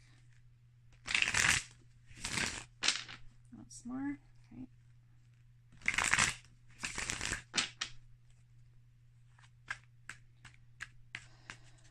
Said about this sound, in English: being told to shuffle the deck.